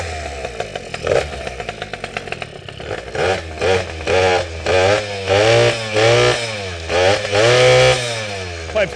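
A small two-stroke custom moped engine with a performance expansion pipe idles with a rattly buzz, then revs repeatedly in rising bursts, its pitch climbing and falling with each throttle blip.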